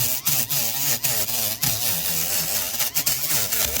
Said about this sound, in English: I want to show you something with my homemade flap sander. I'm going to turn it on